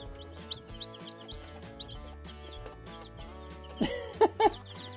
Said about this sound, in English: I'll show a clip here in a minute of our meat chickens.